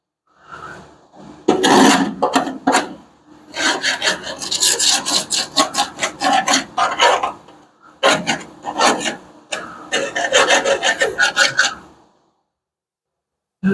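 Screwdriver scraping rust on a 1975 Plymouth Duster, a close, loud rasping in short strokes with brief pauses, grouped in two long bursts and then silence at the end.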